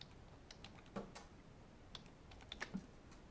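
Keys tapped on a computer keyboard while entering a dimension label in Revit software, a few scattered light clicks with a slightly stronger pair near the end, quiet and close with no talking.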